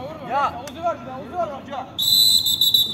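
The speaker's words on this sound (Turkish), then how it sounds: "Geri pas ve hakemin düdüğü var." A referee's whistle at a football match sounds one sustained, shrill blast near the end, loud over crowd noise, after several short whistled chirps and background voices.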